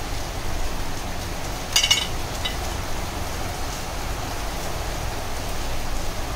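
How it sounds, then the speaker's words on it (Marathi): Steady rain falls outside, a continuous broadband hiss with no distinct drops, loud and unbroken, with a brief clatter near the start. "मस्त बाहेर पाऊस पडतोय"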